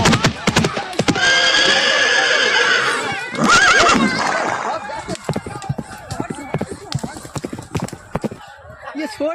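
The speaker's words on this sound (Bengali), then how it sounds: "বন্ধুরা দেখতে পাচ্ছেন সেই ঘোড়াগুলো" At a horse race, a horse whinnies loudly with a long high call, then more neighing follows amid rhythmic hoof clopping and busy outdoor noise; voices are heard.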